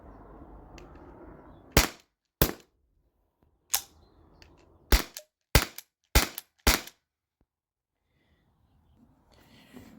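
A T4E HDP50 Gen2 13-joule pistol fires seven sharp, loud pops at uneven intervals, each cracking out against near silence between shots.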